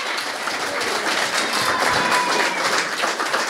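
Studio audience applause during a wrestling podcast taping, a steady dense wash of clapping that holds at even loudness for the whole stretch with no voices over it.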